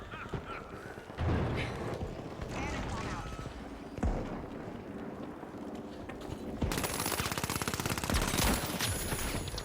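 Rapid automated turret gunfire in The Finals video game, sustained bursts of machine-gun shots with loud explosions mixed in, dense and continuous, with a voice talking over the action.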